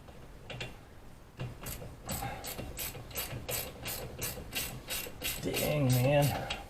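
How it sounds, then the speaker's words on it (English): Ratchet wrench loosening a bolt on the dirty driver's side of a vehicle, a quick run of sharp, evenly spaced pawl clicks, close and fairly loud, building toward the end. "Are you tightening or loosening? Oh my god, my ratchet's like..."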